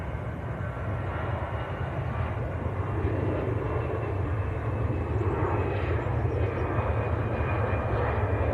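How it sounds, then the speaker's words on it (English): An Airbus A350 passes straight overhead at Manchester Airport, a loud broad jet roar that holds steady and rumbles throughout, heard outdoors from near the runway with no one speaking. "Runway's A350 just gone straight over the top."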